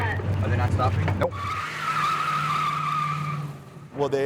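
Car skidding with brakes failing on the seventh floor of a parking garage: a long, loud tire squeal sustained for over two seconds, with speech before and after.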